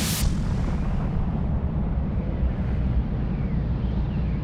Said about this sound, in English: While we see the outward explosion as a supernova, this masks the implosion going on inside.